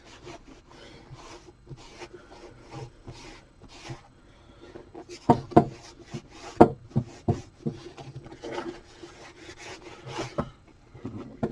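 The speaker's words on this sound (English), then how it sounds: "Now I do like to get the little cloth and just give it a rub over." A cloth rubbing over a leather Wolverine work boot at a cobbler's repair bench, giving soft scuffing strokes in an uneven rhythm, close and fairly quiet, with a few sharper knocks partway through.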